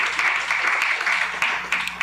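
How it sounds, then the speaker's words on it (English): Audience applause at a long service award ceremony for award recipients, a dense sustained wash of many hands clapping close by, with faint voices underneath. "Another round of applause for our recipients, please."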